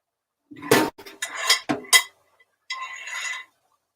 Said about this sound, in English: I'm going to move my pan out of the sink so that way I can put my strainer in the sink.